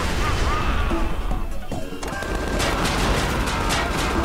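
Rocket launcher fire in the video game Tales from the Borderlands, heard as dense blasts and crashing impacts within a loud, continuous barrage of combat noise.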